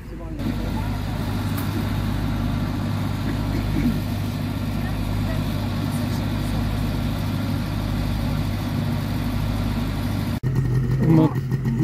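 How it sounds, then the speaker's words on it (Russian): A steady 65-horsepower snowmobile engine drones and idles close by at a hot-air balloon festival, low and continuous, with a brief break and rougher burst near the end. "моторчик от снегохода"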